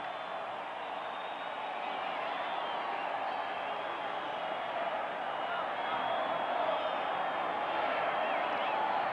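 Stadium crowd at a 1985 NFL game, San Francisco at Denver, in Denver, gives off a steady, dense roar that holds even for the whole stretch without clear peaks.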